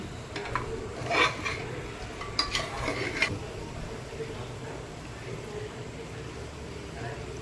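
A spoon clinks and scrapes in a pan while curry with coriander powder and curry leaves is stirred over low frying, with a few sharp knocks early and a soft sizzle underneath.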